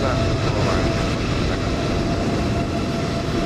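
Boeing 777 airliner engines in Microsoft Flight Simulator 2020 at Edinburgh, a loud, steady broadband roar with a faint whine, constant throughout under a speaking voice.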